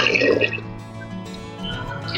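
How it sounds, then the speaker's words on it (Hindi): A glass of water pours into a pressure cooker holding sweet potatoes, a brief splashing gurgle that starts loud and trails off into lighter dripping. "1 गिलास हम इसमें पानी डाल रहे हैं।"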